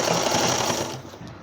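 A sewing machine stitching fabric for a baby cap, a rapid continuous whirring rattle that runs close and loud, then eases and slows near the end, with no speech.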